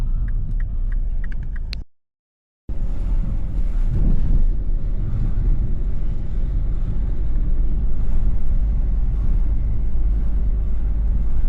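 Strong wind buffeting the microphone on a blustery outdoor walk, a loud continuous roar with gusts, broken by a short cut to silence before resuming.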